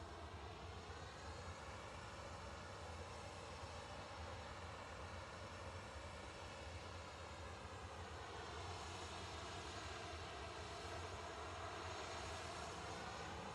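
Ryanair airliner jet engines roaring steadily during takeoff at Manchester Airport, a loud, sustained broadband rumble with a slowly shifting whine that holds throughout without pause.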